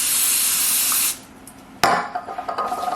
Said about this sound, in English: We're going to use our handy dandy little butter spray.